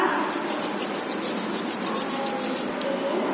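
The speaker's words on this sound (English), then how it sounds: "rub your hands" Palms rubbing briskly together in a steady back-and-forth rhythm, a continuous close dry friction with regular pulses, heard alone during a classroom exercise.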